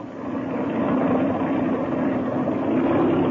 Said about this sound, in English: I'll crack the throttle open a little bit and let her warm up.